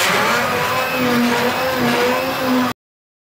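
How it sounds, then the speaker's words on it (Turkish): Kitchen blender whirring at high speed as it purées cooked vegetables for a fish soup, a loud steady motor drone with a slight wavering pitch that cuts off abruptly. "sebzelerimizi blenderdan geçirelim."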